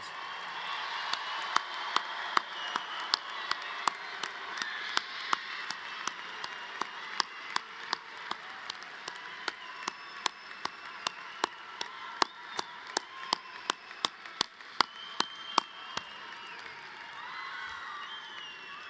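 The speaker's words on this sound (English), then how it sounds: "Give them a round of applause." Applause for a spring 2025 university graduating class at a commencement ceremony, a steady patter of many hands clapping in a large hall, fairly distant, with sharp individual claps standing out and faint cheering.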